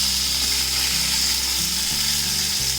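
Onions, green chilies, ginger and garlic hit hot oil and sizzle loudly and steadily, a close, dense frying hiss with a low mechanical hum underneath and no speech.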